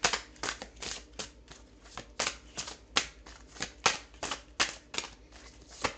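Tarot cards being shuffled by hand, a rapid series of crisp riffling snaps and soft slides repeating in irregular bursts, close and fairly quiet, with no talking.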